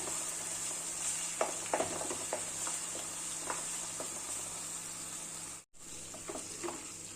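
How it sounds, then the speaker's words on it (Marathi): Ginger and green chili paste frying in hot oil with cumin and fenugreek, a steady close sizzle with scattered crackles and soft stirring scrapes, broken by a brief dropout before the sizzling resumes. "आणि घालून घेत ही अल आणि मिरचीची पेस्ट आणि याचा कच्चापणा जाईपर्यंत आपण याला परतून घेऊया"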